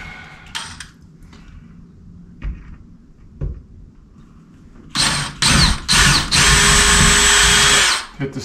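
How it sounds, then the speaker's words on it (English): A power drill bores a pilot hole into a wall stud while a shelf bracket is mounted, loud whining bursts in the second half, briefly stopping and restarting, after a quieter stretch with a few light knocks. "I would drill a hole first."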